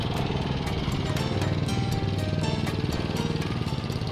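A reel lawn mower cutting perennial ryegrass in a front lawn at a 1.25 inch height, giving a steady, loud, continuous whirring clatter with a fast rhythmic ticking throughout, close by and without voices.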